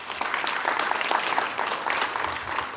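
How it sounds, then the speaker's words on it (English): An audience at a community hazard preparedness workshop applauds, a dense, steady burst of many hands clapping that fills the room, loud and close, with no voices. "It's always great to get applause before you start."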